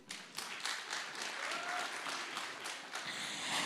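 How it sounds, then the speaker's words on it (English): Conference audience gives a warm round of applause, a dense, steady wash of many hands clapping with no voices, heard from within the hall. "may I ask that we please give the beautiful Center of Adventure a warm round of applause"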